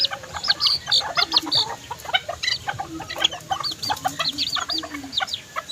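Backyard chickens, including a pure white hen, cluck and cackle in quick irregular bursts, close and lively, with several birds calling over one another and no speech.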